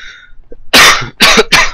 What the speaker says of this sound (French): Donc je tousse.